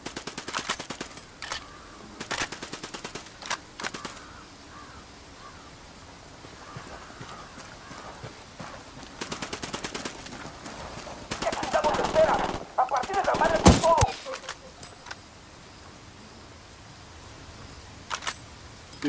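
Gunfire in the tactical shooter Ghost Recon Wildlands: scattered rapid bursts and single cracks come in clusters, with a dense volley near the middle, at moderate distance over quiet ambience, with brief radio-style voices between shots.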